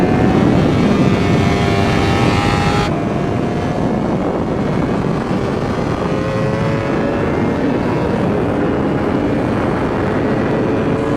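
A 2024 Honda Fireblade SP engine revs hard and then holds a steady high drone as the superbike pulls away, loud and continuous with rising and falling engine tones and no talk.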